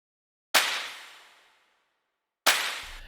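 Two loud, layered clap hits with a bright, spread-out decay, spaced about two seconds apart with silence between.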